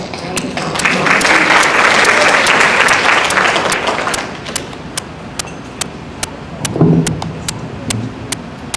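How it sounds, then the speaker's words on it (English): Audience applause at an NAACP Mother of the Year ceremony, a loud sustained burst of clapping for about four seconds that thins into scattered single claps. "Let's give him a round of applause."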